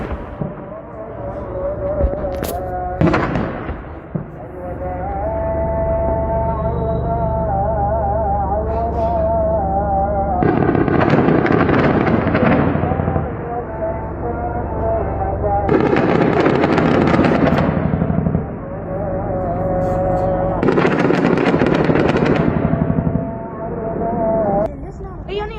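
Gunfire in ground fighting between US troops and Kataib Hezbollah fighters comes in several loud, sharp, crackling bursts a few seconds apart, set against a steady background and a voice.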